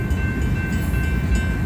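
A Union Pacific manifest freight train led by locomotive UP 8860 rumbles steadily close by as it picks up speed, a dense low roll of wheels and cars with no voices.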